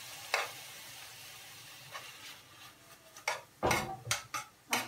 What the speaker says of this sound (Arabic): ها هما دابا هكا تيتشحرو داك البصله والمطيشه والبنجال